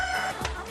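Hens on a Korean natural-farming egg farm, raised on homemade feed and housed in coops built from natural materials, give a short, close burst of clucking that lasts under a second.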